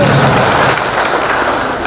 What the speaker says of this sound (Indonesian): Tepuk tangan untuk Anda semua, silakan duduk ya.